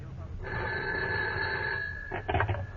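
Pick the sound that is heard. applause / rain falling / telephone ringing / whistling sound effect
telephone ringing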